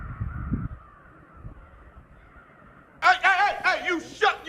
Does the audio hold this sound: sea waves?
no